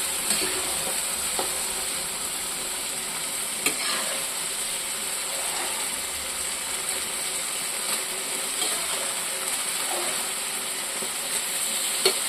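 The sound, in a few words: ridge gourd sautéing in a pan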